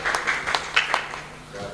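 Audience applause greeting a poet at a mushaira, the Jashn-e-Riyaz Saghar poetry gathering: a short burst of clapping, moderately loud and uneven.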